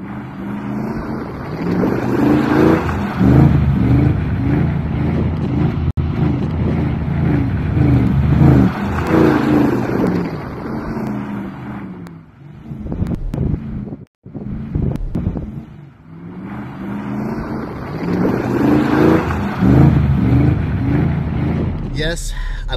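Ford LTD wagon with a carbureted Mustang GT 302, T5 gearbox and bolt-ons drifting in snow, its V8 revving and surging in repeated bursts through heavy wind buffeting, dipping briefly midway before roaring again.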